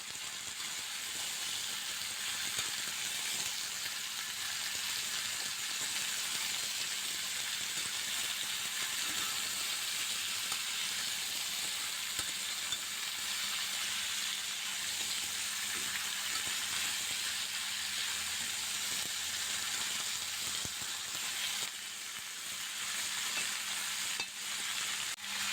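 Potato and pumpkin cubes with salt and turmeric being stirred in a hot pan, a dense continuous frying hiss with faint scraping of the spatula throughout, close and steady.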